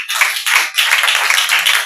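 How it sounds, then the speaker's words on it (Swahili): A church congregation claps for the Lord during a Sunday service, loud close bursts of hand-clapping in quick irregular waves with brief dips between them. "Pigia Bwana makofi."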